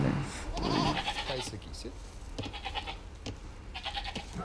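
Goats bleating in the video game Age of Empires, a loud wavering bleat near the start followed by clicks and game sounds, with a voice speaking briefly.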